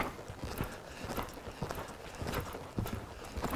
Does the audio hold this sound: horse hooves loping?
yes